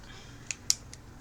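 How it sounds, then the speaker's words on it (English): A few sharp, quiet clicks and snips of scissors opening and closing, brief and close in an otherwise quiet room. "How do I shut the scissors to make the cut?"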